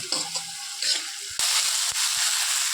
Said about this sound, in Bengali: রসুন আদা আর কাঁচা লঙ্কা বাটাটা আমি পুরো তেলে দিয়ে এখন মশলাটা ভালো করে কষে নেব